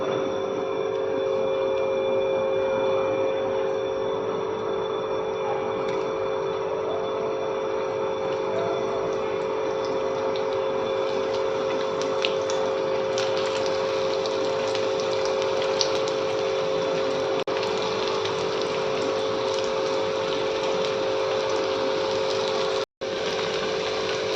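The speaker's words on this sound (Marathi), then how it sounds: "आता आपण याला फ्राय करून घ्यायचे." Crispy coated paneer frying in hot oil on a tawa, giving a steady, even sizzle with a constant hiss throughout and one brief sharp knock near the end.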